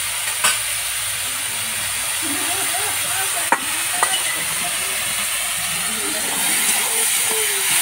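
Tomato and ginger-garlic paste fry in a pan for a fish curry on a village wood fire, a steady broad sizzle with a few sharp clinks of a spoon against the pan.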